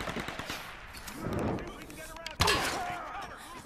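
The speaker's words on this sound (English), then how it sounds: "Okay, I'm taking fire from somewhere." Gunfire in Tomb Raider, the action video game, arrives as rapid bursts and sharp cracks, with one loud close shot, while someone talks.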